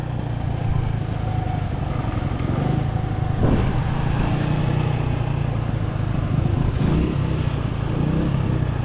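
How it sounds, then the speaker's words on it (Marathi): A vehicle's engine runs steadily as it drives through a water crossing in Ladakh, a continuous close rumble with a couple of brief splashing surges midway and no talk. "एवढ्या पाण्यातनं निघायची का गाडी आपली"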